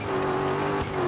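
A car slides through a gravel curve in the rally racing game Dakar 18, its engine holding a steady droning note under rushing tire and road noise throughout, with no voices.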